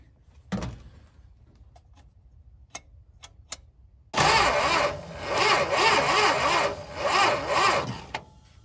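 A 1971 Dodge Charger Super Bee engine cranking on the starter without firing: a few faint clicks, then a loud, steady rhythmic whirring crank lasting about four seconds, close to the microphone and without talk.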